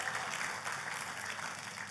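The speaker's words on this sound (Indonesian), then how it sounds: "Tepuk tangannya, boleh yang paling meriah buat Tuhan kita." A church congregation applauds during a sermon, producing a faint, distant, continuous patter of many hands that lasts for about two seconds.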